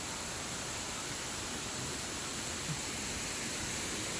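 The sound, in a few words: waterfall at Pangil, Laguna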